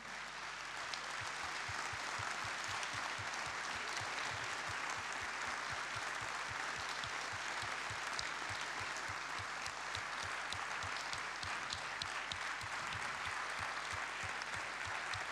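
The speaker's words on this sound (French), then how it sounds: "Je vais vous demander un tonnerre d'applaudissements." Sustained applause from the audience at a French awards-night closing ceremony for entrepreneurs, a dense, even wash of many hands clapping at moderate distance, steady throughout with no break.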